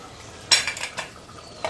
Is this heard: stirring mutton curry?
yes